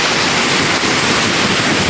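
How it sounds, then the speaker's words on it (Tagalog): Strong wind blows steadily and loudly across an open outdoor spot during rainy weather, a continuous broadband roar with buffeting on the microphone. No one speaks. "Uy, hangin na magkaswing."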